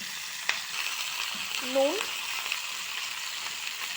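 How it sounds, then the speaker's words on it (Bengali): Potatoes and spring onion stalks fry in hot oil, giving a steady, even sizzle throughout. A voice speaks one brief word partway through. "তেলের মধ্যে তেলটা গরম করলাম, গরম করে আলু আর পেঁয়াজ কলিটা দিয়ে দিলাম।"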